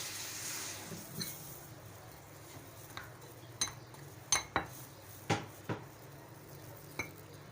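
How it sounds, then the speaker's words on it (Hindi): Pakora batter for crispy onion pakoras being mixed with water in a bowl, giving faint, scattered clinks and scrapes of a utensil against the bowl in a quiet kitchen, with no talk. "इसको हम पानी से मिक्स कर लेंगे।"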